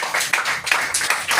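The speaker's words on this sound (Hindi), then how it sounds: "उसके लिए तालियां होना चाहिए।" An audience at an Ayurvedic wellness product training claps in a short burst of applause, several sharp hand claps ringing close and loud in quick uneven rhythm.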